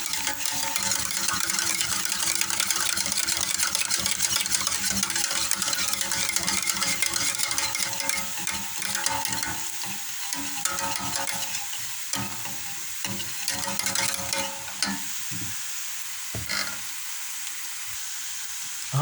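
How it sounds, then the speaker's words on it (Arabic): Béchamel and onions are stirred in two pans at once while cooking for a minced-meat and potato gratin, giving a constant close sizzle with spoon scrapes and occasional clinks that thin out toward the end. "يد كنحرك بها البيشاميل ويد مرة كنحرك بها البصل"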